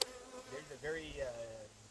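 Honey bees buzz around a beehive box, a steady faint drone with individual bees swelling louder as they pass close by.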